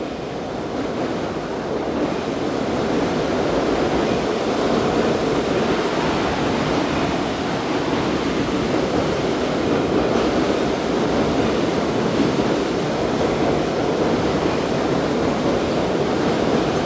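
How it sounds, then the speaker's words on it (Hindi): Loud, steady rush of fast-flowing river water under a bridge, a continuous broadband roar with no pauses, close by and alone. "बहुत ही रफ्तार से पानी दरियाई सिंध से आ रहा है"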